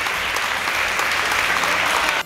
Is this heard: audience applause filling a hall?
yes